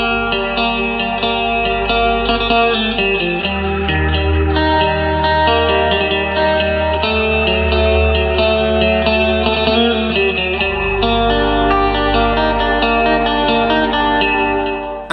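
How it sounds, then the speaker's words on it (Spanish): Electric guitar drenched in reverb, delay and chorus or detune effects, played in an atmospheric style; sustained, shimmering chords ring continuously and loudly over a steady bass, with echoing tails and no voices. "utilizaba buenas cantidades de efectos como el reverb, el delay, el chorus o alguno muy similar como el detune"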